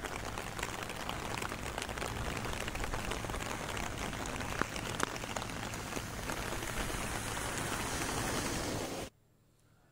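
Torrential monsoon rain pours down in Mehkar and Lonar in Buldhana district, Maharashtra, a loud dense roar of drops hitting surfaces that cuts off abruptly near the end.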